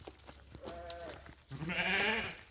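Pregnant ewes bleat close by, a short wavering call followed by a longer, louder one, with faint background noise and no talking.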